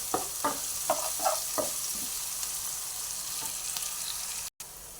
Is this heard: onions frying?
yes